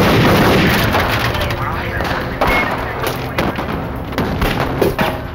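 Reenacted gunfire from a Miami FBI shootout, with agents trading shots at point-blank range against an assault rifle: dense, continuous loud bangs and thuds. Narration-like voices and a steady roar run throughout.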